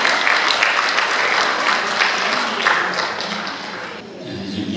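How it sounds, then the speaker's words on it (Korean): Audience applause at the opening ceremony of an international folk painting forum, a loud, steady wash of clapping from a large crowd that fades slightly near the end. "박수로 맞아주시기 바랍니다."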